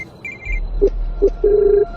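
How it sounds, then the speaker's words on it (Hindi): A phone rings from inside a mud-walled room, heard as short tonal bursts that grow into a longer sustained ring over a low background hum, with no talk. "फोन उसी मिट्टी के कमरे के अंदर बज रहा है।"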